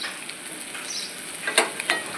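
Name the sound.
chopped ivy gourd (tondli) frying in oil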